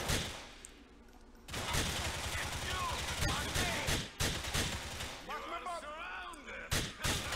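Gunfire in the video game Grand Theft Auto IV, bursts of shots and impacts repeating across the stretch, loud and close, with a voice talking over parts of the action.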